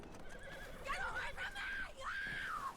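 A horse whinnies in several rising and falling bursts in the video game Red Dead Redemption 2, close and fairly loud, with faint background noise underneath.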